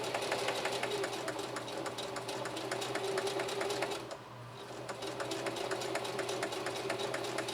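A Singer Heavy-Duty 4423 sewing machine stitches through four layers of denim at a steady, moderate pace, its rapid needle clatter running continuously with a short lull midway, with no voices.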